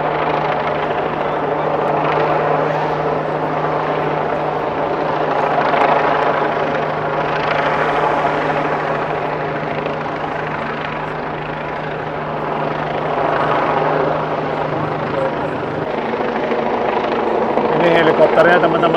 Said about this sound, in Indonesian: Ini helikopternya, teman-teman. Persis di atas sini.